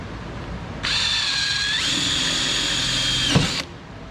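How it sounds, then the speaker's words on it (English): A power drill whines steadily for about three seconds while fitting Jeep Wrangler off-road protection, rising briefly in pitch, then stops; close and loud with no talking. "If we can go with a smaller drill bit if you want."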